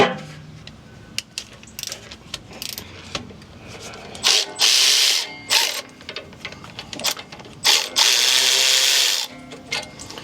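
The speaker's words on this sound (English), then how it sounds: "break it free always by hand, and then we'll apply some power to take it loose all the way." Power tool spinning loose sway bar bolts on a Jeep during a heavy-duty sway bar install, with short bursts of ratcheting and whirring between quieter handling noises, close and fairly loud.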